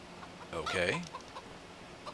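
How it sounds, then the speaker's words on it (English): Chickens cluck in a farm pen in the Farming Simulator 25 video game, a short rising burst of clucking close up, then a few faint peeps against quiet ambience. "Excuse me, chickens, I'm coming in here,"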